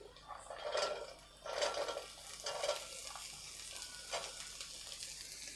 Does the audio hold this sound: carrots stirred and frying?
yes